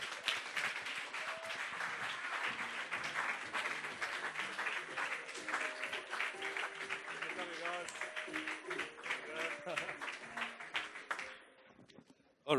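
Audience applause and scattered whoops for two speakers at a Startup Grind event in Cape Town, a dense sustained clapping that fills about eleven seconds before dying away, with voices mixed in.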